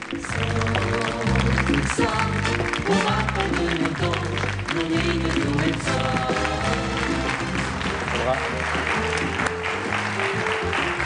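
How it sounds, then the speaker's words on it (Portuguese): Studio audience giving a Portuguese television host a long round of applause, dense steady clapping that fills the whole stretch, loud and close with no pauses. "muito obrigado pelos vossos aplausos"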